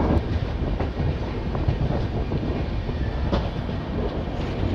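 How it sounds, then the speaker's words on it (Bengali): Train noise from the New Delhi - Malda Town Express pulling out of Varanasi station: a steady, loud rumble of rail cars with faint rhythmic clickety-clack, continuous throughout and with no voices. "বেশ কিছুক্ষণ দাঁড়ানোর পর বারাণসী স্টেশন থেকে ট্রেন ছেড়ে বেরিয়ে যাচ্ছে।"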